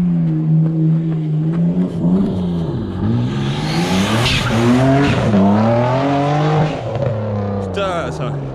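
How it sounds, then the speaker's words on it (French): A bi-turbo BMW 325i E36 race car driven hard, its engine revving and rising in pitch through gear changes with tyre squeal, loud and sustained, while people talk over it. "c'est hardcore un biturbo, ça fait un peu plus d'effet que les autres quand même hein"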